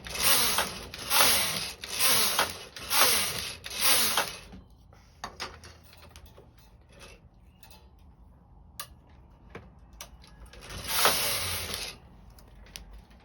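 A knitting machine carriage is pushed across the bed in repeated passes, each a rasping, rhythmic slide of about a second, five in a row, then scattered clicks and a final pass, close and moderately quiet.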